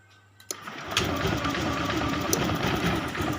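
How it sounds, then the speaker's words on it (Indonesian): A fuel-injected motorcycle engine cranks and starts, then runs steadily at a loud, busy idle close by with no voices. "Coba motor kita hidupkan, mesin kita mau kita hidupkan ya."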